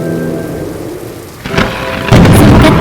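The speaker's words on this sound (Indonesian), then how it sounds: "semua anggota keluarga Nek Jago setelah disambar petir semuanya berubah menjadi batu" Thunder cracks and rain pour down during a lightning strike in a 2D animated folk-tale film, starting as a steady rain hiss, then a sharp crack at mid-clip followed by a loud, sustained rumbling roar with no talking.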